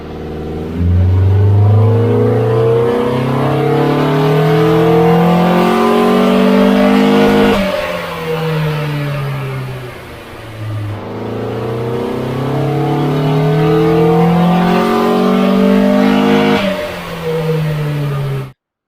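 A Datsun Stanza's L20B engine on a dyno revs hard through two long pulls, its pitch climbing steadily and loudly, dropping back between runs, then cutting off abruptly at the end.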